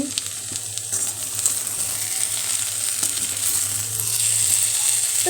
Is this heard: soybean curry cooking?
yes